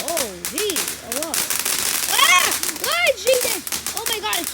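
Fourth of July fireworks go off outdoors with whistling rising and falling tones, crackles and rapid pops. Excited voices exclaim throughout.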